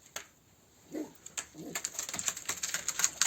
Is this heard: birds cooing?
yes